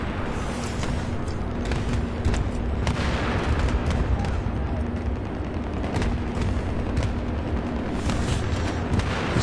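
Dense, loud gunfire from a video game, a continuous roar of rapid shots and booms without a break, with no talking.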